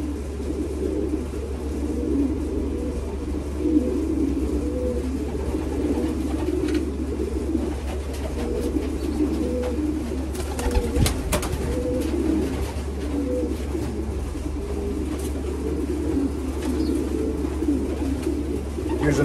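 Racing pigeons in a loft coo continuously in soft, rolling, overlapping calls, heard close over a steady low hum, with a brief clatter near the middle.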